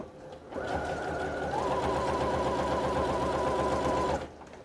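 A sewing machine stitches a cushion cover with a French seam, a steady close whirring run lasting about three and a half seconds and stopping cleanly, with no talking.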